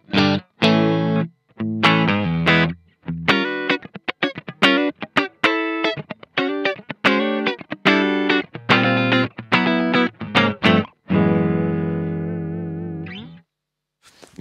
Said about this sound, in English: I'm on the clean channel, and this is where it sounds like with everything, you know, no reverb engaged or anything like that.